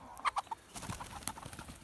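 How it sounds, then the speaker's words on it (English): Backyard hens in their paddock give a few soft clucks, then fainter scattered clucking and rustling at a moderate distance, quiet overall. "The hens are really"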